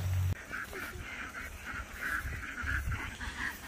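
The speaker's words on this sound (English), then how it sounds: "Here we come, duckies." Backyard ducks kept alongside bantam chickens quack repeatedly in short honking bursts at moderate distance, a loose irregular series over several seconds with no talk.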